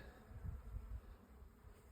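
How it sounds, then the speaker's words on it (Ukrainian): Steady honey bee buzzing, a low droning hum from many bees close by, swelling and easing slightly without any voices. "А так бджіл просто море."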